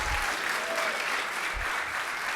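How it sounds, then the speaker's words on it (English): An audience at a Rotary corporate member roundtable applauds its panel, steady dense clapping from a room full of people, sustained and fairly loud without a break. "Hey, let's get a round of applause for our panel."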